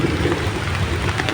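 Steady rain falling outdoors, a dense continuous hiss with low rumbling underneath, close and even throughout with no voices.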